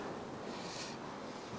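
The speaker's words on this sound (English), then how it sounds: "Excuse the noise, very windy today." Steady, heavy wind buffets the microphone, a continuous roaring rumble with no pauses.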